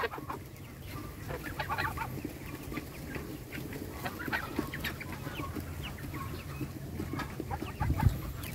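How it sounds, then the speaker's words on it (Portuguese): Chickens cluck busily and continuously while being fed in a farmyard, a dense, close-up chorus of overlapping calls with no talking. "Eu tô alimentando as galinhas."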